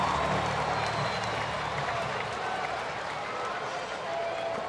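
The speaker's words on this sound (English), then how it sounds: "And a big cheer for Jason Heyward" A baseball stadium crowd at a Rockies at Braves game in Atlanta roars and applauds in a steady, dense wash of distant cheering that holds at an even level throughout.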